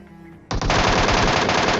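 Rapid MK14 rifle gunfire in a video game battle, a loud sustained burst that starts abruptly and continues dense and unbroken, with no talking over it.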